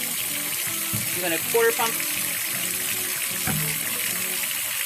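Water runs steadily from a tap, a constant rushing stream in the background while a person talks over it close by.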